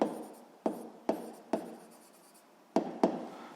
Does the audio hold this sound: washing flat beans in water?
no